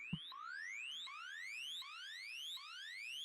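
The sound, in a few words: synthesizer sine wave sound with unison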